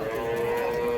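A native bull at a cattle market in Vaniyambadi gives a steady, close low moo lasting about a second, with no talking over it.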